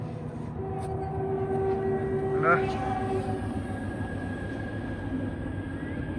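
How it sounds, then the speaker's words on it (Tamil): A steady low rumble of a train rolling by in Sri Lanka, with a brief horn note rising partway through under faint background voices. "அங்க பாருங்க ட்ரெயின் வருது"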